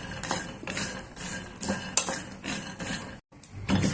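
Groundnuts are dry-roasted in a pan for a Rayalaseema groundnut chilli powder, with a steady rhythmic rattle and scrape of the nuts being stirred and tossed, close and continuous with one brief gap.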